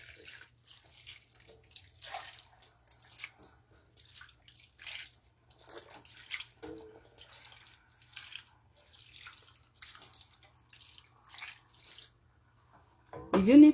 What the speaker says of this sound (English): so we get some water, and you just kind of pour water